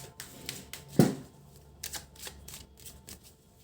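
Tarot cards being shuffled and handled during a reading, a few quick papery riffles and snaps with one louder flick near the start, close and fairly quiet with no talking.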